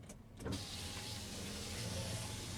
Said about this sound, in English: power rear window control